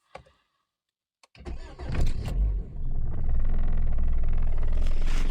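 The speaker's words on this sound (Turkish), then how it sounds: "Suzuki'ye bir start verelim." A Suzuki car's engine is started: after brief faint handling noises, the starter cranks and the engine catches, settling into a steady low idle rumble close by.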